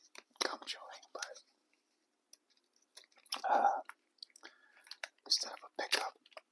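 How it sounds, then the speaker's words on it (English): Close-up ASMR gum chewing, with wet smacks, squishes and soft clicks in irregular bursts separated by short silences, mixed with whispering. "gum chewing"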